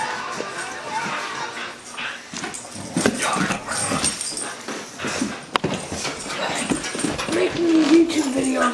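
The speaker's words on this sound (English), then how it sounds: "Making a YouTube video of this crazy dog. Cause look what she's doing, she's biting her sock off." A dog tugs and bites at a stretched sock in play, with scuffling, snuffling and soft whimpers close by over several seconds, while people talk in the background.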